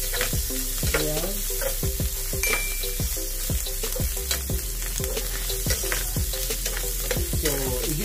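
Sliced mushrooms sauté with garlic and onion for a creamy tuna pasta. A steady sizzle runs throughout, and a spatula scrapes and clinks against the pan in a regular rhythm close up. No one speaks.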